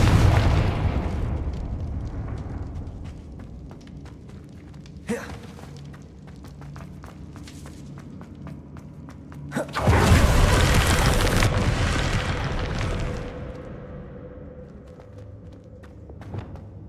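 Confringo spell blasts in the video game Hogwarts Legacy, a sudden boom followed by a long loud roaring burst over a steady background of game ambience and footsteps.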